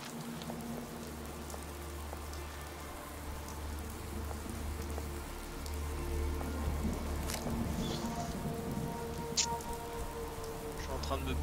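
Rain patters in the video game Fallout 4, a steady wash of drops over a low droning hum, with occasional sharper ticks and a swell in intensity partway through.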